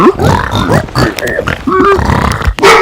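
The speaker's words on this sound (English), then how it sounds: "it's just a bunch of piglins snorting" Piglins in the video game Minecraft grunt and snort repeatedly at close range, with loud overlapping guttural bursts throughout.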